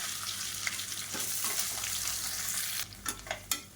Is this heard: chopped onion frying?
yes